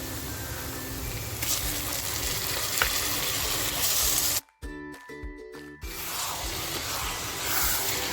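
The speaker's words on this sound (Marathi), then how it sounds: "आता जे मटण मॅरिनेट करून ठेवलं आहे ना ते मटण टाकायचं याच्यामध्ये" Marinated mutton frying in a pan with onion masala: a loud, continuous sizzle and crackle, briefly cut off partway through, then sizzling again steadily to the end.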